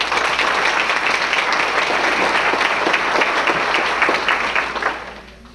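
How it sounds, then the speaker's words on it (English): Sustained applause from a banquet audience at an awards ceremony, a broad, even roar of many hands clapping that fades out in the final second. "just give them a great round of applause"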